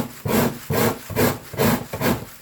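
Fresh corn scraped on a hand grater makes five rhythmic, raspy strokes, each a loud close rub with brief pauses between, no talk.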